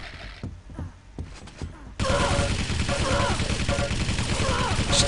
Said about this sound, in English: Good frag by Fears with his shotgun